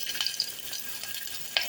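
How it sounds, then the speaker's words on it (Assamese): Onions frying in hot oil inside a pressure cooker for a fish curry, a soft steady sizzle with a few faint stirring scrapes, close and fairly quiet. "মই পিঁয়াজখিনি এতিয়া ভাজি ল'ম।"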